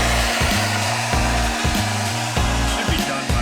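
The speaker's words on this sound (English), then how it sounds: "I still want to get a hairdryer and see if I can make it go away completely" A hair dryer blows in bursts as it heats XPEL protective film, a loud whirring hum cut off and restarted several times, each run lasting about half a second to a second.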